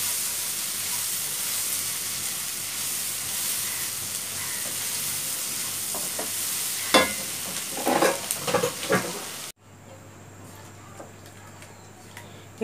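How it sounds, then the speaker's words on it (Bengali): Onions being stirred in a frying pan with red chili, coriander and cumin powder for a Bengali onion curry, a steady low sizzle with a burst of scraping stir strokes near the end before a quieter stretch. "দিয়ে আমরা এটা অনবরত নাড়তে থাকবো"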